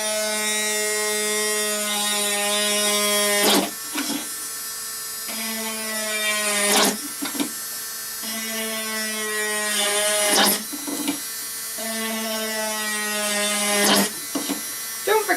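A power drill drilling holes in a board whines in long steady bursts, stopping and starting about four times, loud and close, with short clattering breaks between runs.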